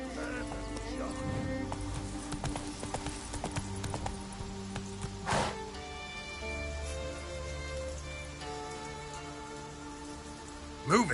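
Rhythmic clip-clop of horse hooves as a character rides in a video game, steady and close, with game music, rain-like patter and a voice speaking over it.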